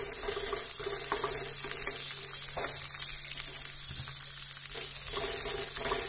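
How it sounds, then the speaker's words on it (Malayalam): Cashews and black raisins fry in a pan over a low flame for jackfruit payasam, giving a steady, close sizzle that runs throughout with no one talking. "നമുക്കിതിലേക്ക് കശുവണ്ടിയും ഉണക്കമുന്തിരിങ്ങയും കൂടെ ഇട്ടിട്ടൊന്ന് വറുത്തെടുക്കാം"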